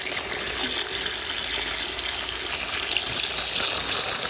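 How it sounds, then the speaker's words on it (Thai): Boiled sugar syrup is poured into a mixture, giving a steady, close splashing flow of liquid that runs continuously for several seconds. "เราก็จะเอาน้ำน้ำที่เรา ต้มใส่น้ำตาลนะจ๊ะหรือน้ำเชื่อมของเราเทลงไปเลยจ้ะ"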